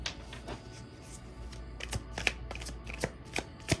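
A deck of tarot cards is shuffled close by, with repeated crisp riffling bursts and soft flicks that come in irregular clusters, loudest near the end.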